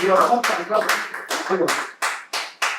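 Congregation in a church applauding together, a dense burst of claps that comes in rhythmic surges and ends in a few strong, evenly spaced unison claps, with voices mixed into the crowd.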